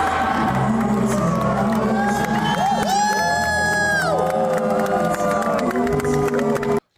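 Large arena crowd at a Eurovision rehearsal of Israel's song, loud sustained cheering mixed with booing and whoops, shrill individual voices rising over the roar before an abrupt cut.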